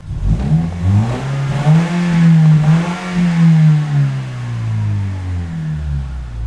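A Lexus IS 300 with a newly fitted aftermarket exhaust revs up and settles back several times, its loud engine note rising and falling steadily and close by, with no talking over it.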